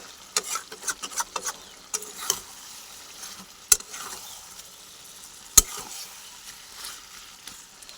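Meat frying in a pan while it is stirred, a soft sizzle with quick scraping strokes early on and a few sharp clacks of utensil on pan, close and fairly quiet.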